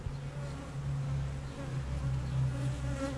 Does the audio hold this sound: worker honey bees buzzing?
yes